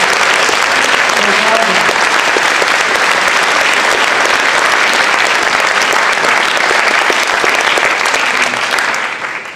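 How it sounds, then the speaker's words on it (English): Loud, sustained applause from a high school concert audience after orchestra, concert band and jazz band performances, a dense, even roar of many hands with scattered cheers that holds for several seconds before tapering off at the end. "I want to let's give one more round of applause to the orchestra,"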